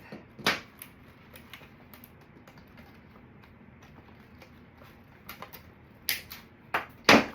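Scissors or a blade cutting through craft material for a handmade red and green nutcracker drum centerpiece, heard as a few sharp, close snips and crisp clicks spread over a quiet background, with a louder cluster of cuts near the end.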